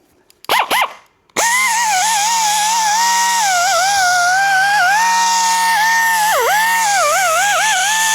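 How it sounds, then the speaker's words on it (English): A power sander cleans up the damaged rear bearing housing of an adult tricycle. A couple of short bursts lead into a loud, continuous motor whine that dips in pitch as it bites into the metal. "I'll just get a sander and we'll give that a bit of a clean up."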